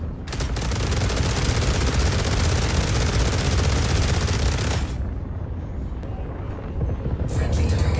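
Sustained ballistic weapon fire in the space game Star Citizen, a dense, loud roar of rapid shots for about five seconds, then a brief lull of lower rumble before firing resumes.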